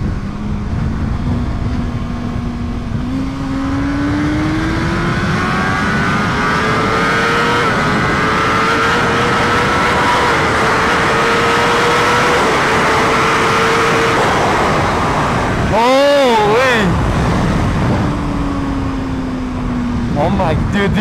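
A BMW HP4 Race motorcycle pulls at full throttle, its engine note climbing steadily through the gears with short dips at each shift, loud and close, then a sharp rev and brief drop before climbing again.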